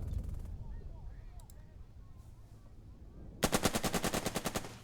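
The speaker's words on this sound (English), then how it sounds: "This machine gun's got 3 shots here, so we'll start by shooting at this fella." Machine gun in the war game Burden of Command: a brief burst at the start, then a loud rapid string of about a dozen evenly spaced shots near the end, with someone talking quietly between.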